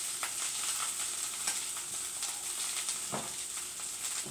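Food frying crisp in oil on a stovetop, a close, steady crackling sizzle with scattered sharp pops and a few stir strokes.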